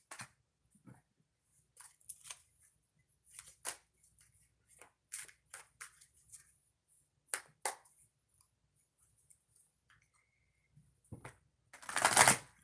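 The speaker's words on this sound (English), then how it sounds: "Now I'm going to shuffle, and then we're going to move on to the next oracle reading." A deck of oracle cards being shuffled during a live tarot-style reading, heard as scattered soft riffles and flicks over about twelve seconds, ending in a louder, denser burst of card shuffling near the close, with no talking.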